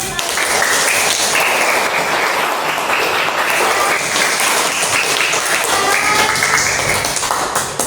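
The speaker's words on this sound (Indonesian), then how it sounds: "Tepuk tangan dulu." Classroom of schoolchildren clapping together, a dense steady wash of applause filling the whole stretch at even loudness, with faint young voices mixed in.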